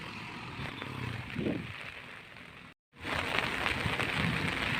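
Steady rain pouring onto a flooded roadside, a dense continuous hiss close by with a faint low rumble, briefly cutting out before resuming just as heavy.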